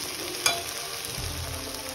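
Meat sizzling and frying in a pan for a celebration lunch, with a steady crackle and hiss and a brief sharp scrape of stirring near the start.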